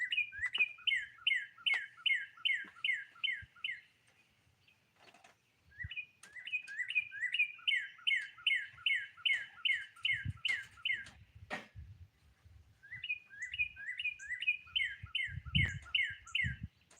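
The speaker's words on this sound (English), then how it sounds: "the birds sounds amazing. They certainly sound loud" Birds chirp and sing outdoors in rainy weather, repeated rapid bursts of bright, loud trilled calls separated by short pauses, with faint background rustling and some low thumps.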